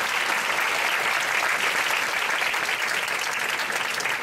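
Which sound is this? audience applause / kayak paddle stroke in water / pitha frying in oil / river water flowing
audience applause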